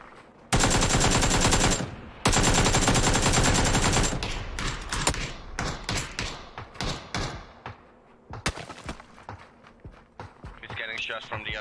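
Sustained bursts of automatic gunfire in PlayerUnknown's Battlegrounds, two long loud volleys followed by scattered shorter shots and cracks, with a few distant pops near the end.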